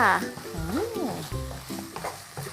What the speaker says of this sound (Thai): แล้วก็ผัดเลยค่ะ